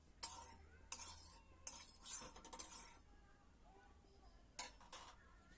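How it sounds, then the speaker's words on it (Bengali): Knife scoring boiled eggs for an egg curry, with faint scattered metallic scrapes and light clinks against a dish, soft and close in a quiet kitchen. "ডিমের গায়ে আমি ছুরি দিয়ে একটু চিড়ে নিচ্ছি"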